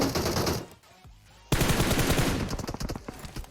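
Rapid automatic gunfire in the video game PUBG Mobile, loud close bursts that stop briefly, then resume as a dense rattling volley with sharp repeated shots.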